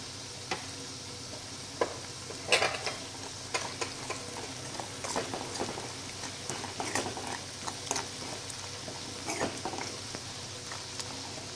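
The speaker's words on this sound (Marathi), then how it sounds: "एक अर्धा मिनिटभर चटणी परतून घेऊया तेलात" Chutney and turmeric fry in oil with a low continuous sizzle and crackle, punctuated by irregular spoon scrapes and taps against the pan, close and fairly quiet, without speech.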